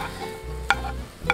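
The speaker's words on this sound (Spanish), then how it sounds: "le damos muchas vueltitas como para que se sofría bien los pimientos y la cebolla" Yellow pepper, garlic and onion sizzle and fry in a pan while being stirred, a steady close sizzle broken by two sharp utensil scrapes against the pan, with no talking.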